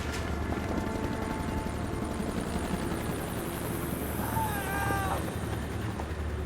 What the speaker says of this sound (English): And the helicopter flew over, you could hear the rotors.